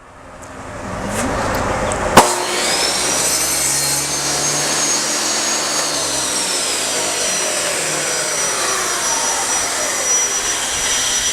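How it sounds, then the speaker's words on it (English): Small wooden corner pieces for a mini treasure chest are cut with a power saw, which spins up after a sharp knock and then runs as a continuous, loud whining drone from close by, with no talking. "And now we're getting ready to cut the last of the corner pieces"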